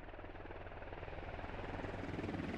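A video game helicopter in a military squad shooter flies close by, its rotor thumping steadily and loudly throughout and gradually building.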